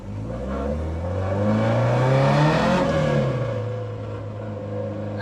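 A Ford Escort Mk2 engine runs close by and is revved once, rising smoothly to a peak and then settling back to a steady, throaty idle, with no one talking.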